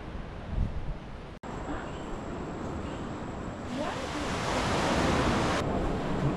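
Ocean surf washes onto a beach in Manuel Antonio National Park, a continuous broad roar of breaking waves that swells louder toward the end, with some wind on the microphone.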